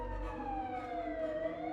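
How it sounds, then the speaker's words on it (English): An ambulance siren in a drama scene, a single steady wailing tone that slowly falls in pitch and carries on alone, fairly faint and close. "The ambulance comes and knocks on the door."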